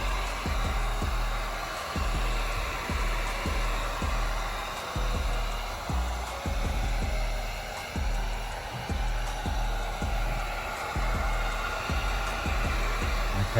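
A heat gun blows steadily and loudly up close as it warms vinyl wrap on the chrome trim of a VW Passat, a continuous rushing roar with soft rhythmic thumps underneath.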